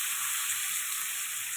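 Boneless chicken tossed in with fried onions sizzles in a pan, a dense steady hiss, close and even for a short moment, with no voices.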